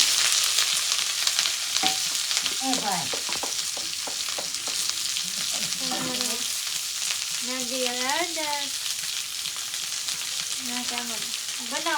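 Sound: mustard seeds and cumin sizzling in hot oil

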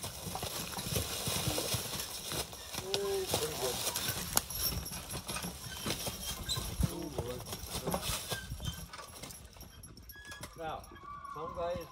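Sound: logging horses walking, hooves clopping

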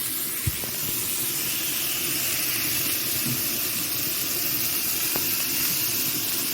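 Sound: water added to hot pan, steam hissing while cooking

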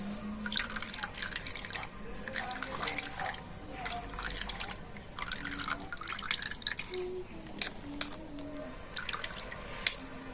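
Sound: spinach juice dripping through a strainer

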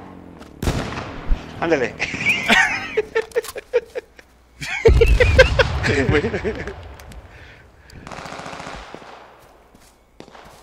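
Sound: gunfire in video game H1Z1

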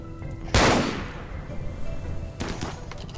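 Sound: turrets shooting in RimWorld video game

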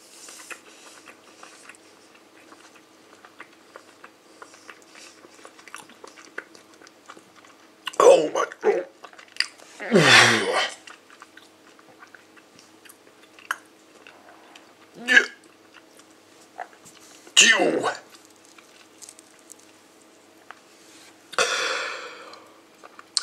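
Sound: chewing a bite of Fini Roller sour watermelon candy

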